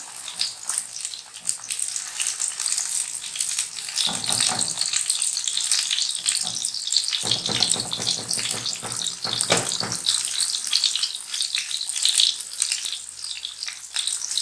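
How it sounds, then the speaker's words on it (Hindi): Chapli kebab frying over a low flame in a pan, a steady close hiss and crackle of oil running continuously with brief louder surges, no voices. "लाइट फ्लेम पर हमने इसको फ्राई करना है"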